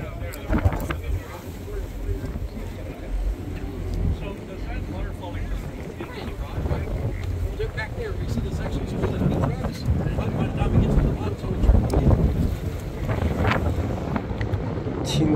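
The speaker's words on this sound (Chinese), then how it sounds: "因为一直在开船，所以声音很吵嘛" A tour boat's engine drones steadily across Western Brook Pond glacial lake, a constant low rumble with wind buffeting the microphone while a voice talks over it throughout.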